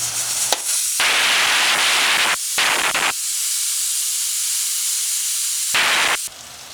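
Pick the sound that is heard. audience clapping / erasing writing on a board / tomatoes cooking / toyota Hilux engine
tomatoes cooking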